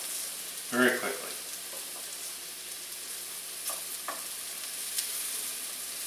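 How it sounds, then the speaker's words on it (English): Small cubes of chicken frying in a pan, a quiet continuous sizzle with a brief louder clatter of stirring near the start and a few faint taps later. "Make sure we get that chicken going pretty good"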